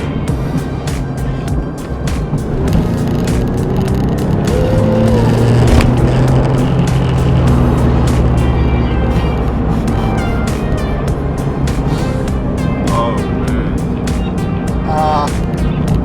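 A Porsche 996 911 Turbo with all-wheel drive and roughly 400 horsepower is being driven. A loud, continuous engine drone and road noise fill the cabin, rising and shifting in pitch as it accelerates.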